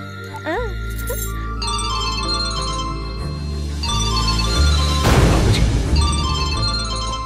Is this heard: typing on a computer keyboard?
no